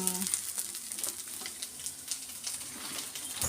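Green chillies and onions frying in a covered pan for a leaf chutney, a soft steady sizzle with a few light clinks and a brief knock near the end, no speech.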